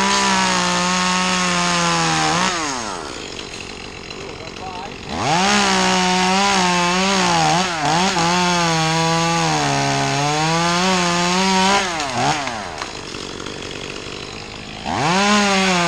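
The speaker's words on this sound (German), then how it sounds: "ich kann mit beiden Händen total Safety sägen" A chainsaw runs loud and near, its engine pitch rising and falling as it cuts through a tree trunk in repeated bursts, briefly idling between cuts.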